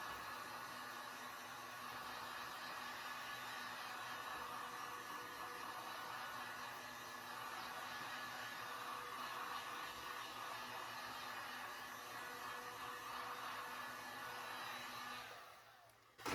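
A steady, continuous blowing whoosh from a heat gun heating resin runs at an even level for about fifteen seconds, then cuts off near the end.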